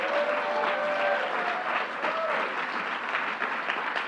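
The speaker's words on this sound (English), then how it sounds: "Let's give our great Manhattan Borough President Gail Brewer a round of applause" At a New York City event with the governor, a large audience gives a steady, loud round of applause that carries on unbroken, with occasional voices faintly beneath it.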